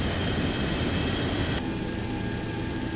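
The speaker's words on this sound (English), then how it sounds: "Oh, I hear an engine going." Boeing 727-100 jet engine whining steadily inside a flight simulator game cockpit, a continuous broadband roar with a faint high tone that drops slightly in brightness partway through.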